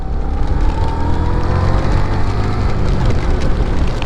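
Rain beginning to fall during a solo motorbike tour in the Nagarparkar area, a dense steady hiss and patter over the low rumble of the bike, continuous and fairly loud throughout.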